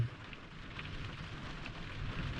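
Rain falls on a tent during a storm at a smoky Nevada camp, a faint, steady patter with a low rumbling undertone throughout, no voices.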